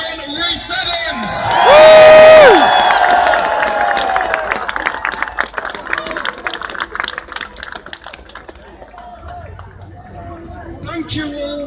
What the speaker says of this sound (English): let's give a big round of applause then for our next speaker